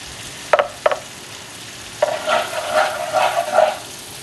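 Melted fat in a pan: a low background sizzle broken by a few sharp clacks of a utensil, then a louder stretch of bubbling and stirring scrapes, close and with no talk.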